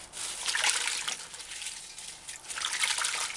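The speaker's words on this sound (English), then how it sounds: "Dip the herb in and out of the water." Comfrey leaves are dipped and rubbed in a pot of water, making soft splashing and trickling in two gentle waves, close and moderately quiet, with no talk.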